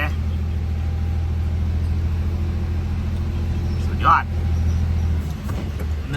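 A truck manoeuvring to reverse into a narrow sawdust factory unloading spot, its engine a loud, steady low rumble throughout, with a brief hiss or clank midway.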